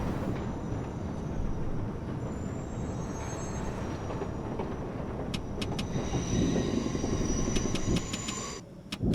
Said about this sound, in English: Wait, there's a train next to me.